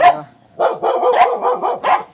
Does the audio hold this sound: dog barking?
yes